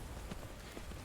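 Steady rain falling in the Skyrim game world, a soft continuous patter with faint scattered drops, low and even throughout.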